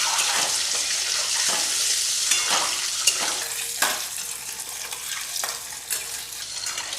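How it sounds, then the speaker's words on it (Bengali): Eggs seasoned with turmeric, salt and chili powder sizzle steadily in a pan over a medium-high flame, with scattered scraping clicks as they are stirred and turned, fairly close and with no voices. "ওই জন্য একটু নেড়ে নেড়ে মাঝে মধ্যে দিতে হবে, উল্টে পাল্টে এরকম করে করে"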